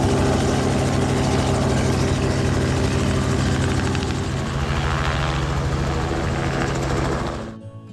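A helicopter flies near Moreton Island, its loud rotor and engine roar steady and close for most of the span before fading out abruptly at the end.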